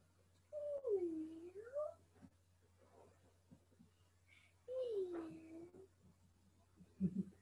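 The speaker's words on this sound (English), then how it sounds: "My kitty is meowing." A cat gives two drawn-out, wavering meows a few seconds apart, close and fairly clear in a quiet room, with faint handling noises and a brief bump near the end.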